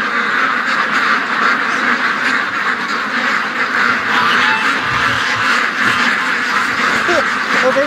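Ducks being raised on a farm quack in a dense, continuous chorus, loud and close, with a layered flock murmur throughout.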